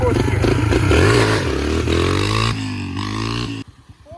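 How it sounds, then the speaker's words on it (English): Dirt bike fitted with its biggest rear sprocket launches in fourth gear, engine revving loud and close with rising pitch, then bogging and cutting off abruptly near the end. "I'm gonna launch in fourth gear."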